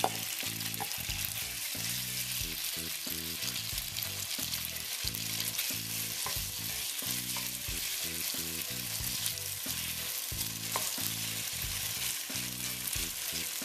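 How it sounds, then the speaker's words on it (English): Beef sizzles loudly in a hot pan alongside chopped garlic, a dense continuous crackling hiss with rhythmic scraping of a spatula underneath, close and steady throughout, with no voices. "also now we're going to go ahead and add our beef."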